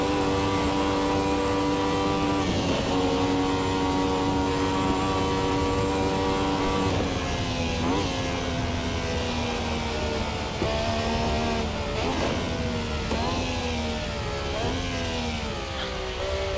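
A Ferrari 312T Formula One racing car drives at speed with a sustained, loud engine note that shifts pitch through gear changes and acceleration on a racing circuit, with no talk.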